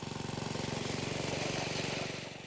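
A homemade remote-controlled lawn mower built by an industrial mechanic runs close by, a steady pulsing engine drone with a fast regular chug and no voices.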